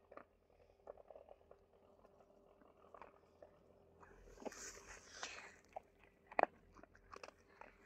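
Stray dogs eating food set down for them outdoors, with soft intermittent crunching and chewing, faint and close, plus a few sharper clicks and someone speaking quietly in the background.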